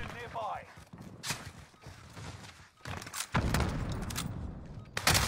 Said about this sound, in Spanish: a ver cómo me escucho mientras disparo